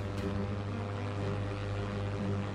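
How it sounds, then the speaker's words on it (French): A steady, loud propeller airplane engine drone for a plane going into a dive, a dense continuous roar with a low throb and no voices. "Et brusquement, l'avion se mit à piquer du nez."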